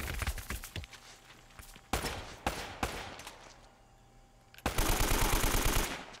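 Gunfire in the video game Uncharted: Drake's Fortune, with loud close bursts of automatic fire, several spaced single shots and rattling volleys, then a sustained rapid stream of rounds near the end.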